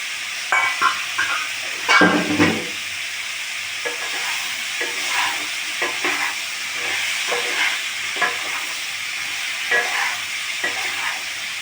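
Green chillies sizzle in a pan of cooking prawns, a steady hiss of frying broken by repeated scrapes and clacks of stirring.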